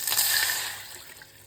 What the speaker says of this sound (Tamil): இதில் 1 கப் தண்ணி ஊற்றிக்கலாம்